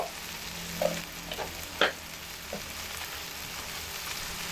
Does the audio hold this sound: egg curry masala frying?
yes